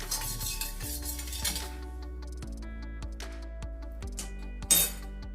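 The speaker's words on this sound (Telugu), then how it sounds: "ఇప్పుడు చక్కెర అంతా మెల్ట్ అయ్యే విధంగా మనం కలిపేసుకుందామండి" A metal spoon clinks repeatedly against a steel vessel while stirring sugar into a mango ice candy mixture, a series of close, bright taps and scrapes that end in a louder clatter.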